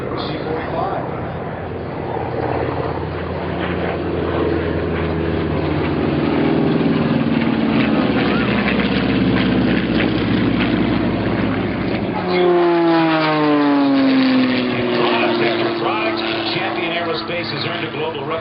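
A C-45 propeller plane drones past at low pitch during an air show, its engine tone sliding downward as it passes, with a rising whine near the end; voices murmur underneath.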